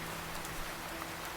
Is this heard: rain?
yes